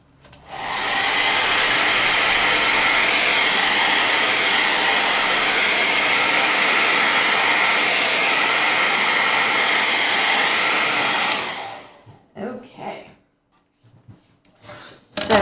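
A hair dryer blows loudly and steadily for about eleven seconds over a painted ombre background, then cuts off, leaving a few faint knocks and handling noises.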